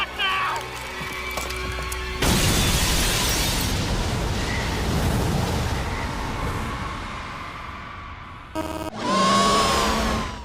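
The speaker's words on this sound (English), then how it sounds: "The control room window's just been hit by a piece of debris from the explosion. It's about to breach." An explosion sends debris into a control room window, which gives way in a loud, sustained roar of blast noise and breaking glass, cut briefly near the end before a final burst.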